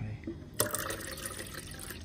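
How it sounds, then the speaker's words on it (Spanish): Tap water runs from a kitchen faucet into a coffee machine reservoir, a steady close splashing stream that starts abruptly and continues for about a second and a half. "Entonces le pongo agua de la canilla"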